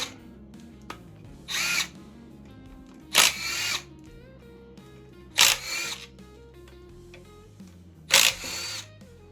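A power drill or impact driver backs out front cover bolts on a 5.3 LS engine during teardown, four short high-pitched whirring bursts spaced a couple of seconds apart, close and loud over a faint background hum.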